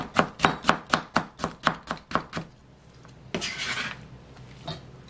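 A knife chops a cucumber on a cutting board in a quick, steady run of about ten crisp, close strikes, then the cutting stops and a brief rustle of handling follows.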